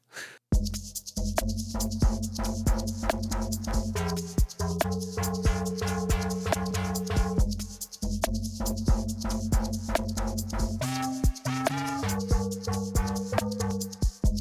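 A bright, metallic bell-like synth made in Serum 2 plays a repeating atonal UK garage pattern over a steady low bass line, continuous and fairly loud with no voices.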